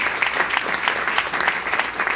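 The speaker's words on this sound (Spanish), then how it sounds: "Puede dar un aplauso al Dios Todopoderoso," A church congregation gives a sustained round of applause to God during a sermon, a dense, steady clapping that stays loud throughout with no speech on top.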